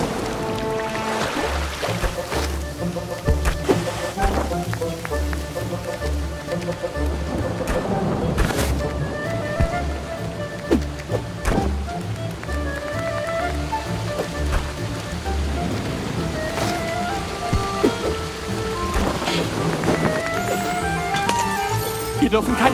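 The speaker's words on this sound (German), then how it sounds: "Der Regen hört nicht auf." Rain pours steadily in the Ratatouille video game, a constant wash under game music and sound effects, with brief splashes and rumbles breaking through.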